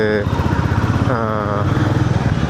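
A Royal Enfield Meteor 350 being ridden toward Besant Nagar beach, its engine thumping in a steady rapid pulse close by while someone talks over it throughout.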